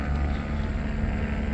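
Police helicopter circling overhead during a car chase in Hemet, a steady droning rotor and engine rumble with no break, moderately loud and continuous throughout.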